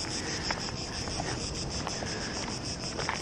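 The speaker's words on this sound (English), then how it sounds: "Can you hear those crickets? I think it's coming from that tree." Crickets chirping in a tree at an ancient site in Athens, a steady high-pitched trilling chorus with faint pulsing, heard alone against quiet outdoor ambience.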